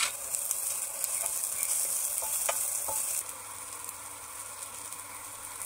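Chopped garlic and green chillies frying in a pan while being stirred, a steady bright sizzle with a few scraping clicks that drops slightly quieter partway through.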